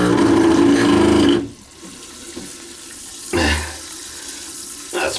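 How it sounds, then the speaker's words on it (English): Tap water runs loudly into a sink and drains down the overflow, a steady rushing hiss that cuts off abruptly, then surges briefly twice more with quieter gurgling between. "the water goes down the overflow instead of going down on the floor"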